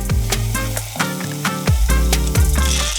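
Minced garlic sautéing in a pan for chorizo and green chile cornbread stuffing, giving a steady close sizzle with periodic stirring scrapes and clicks, no voices.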